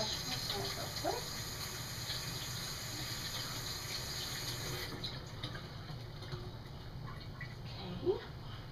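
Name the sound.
tap water running while washing hands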